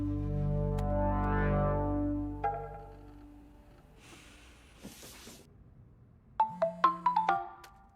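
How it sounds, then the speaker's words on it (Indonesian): A mobile phone rings with a melodic ringtone, loud and close, fading out before a few sharp clicks and brief tones as the call is handled. "HP-nya Balerina ada telepon dari nomor yang tidak dikenal"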